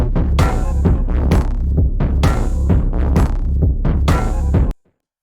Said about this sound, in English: I made just a drum loop.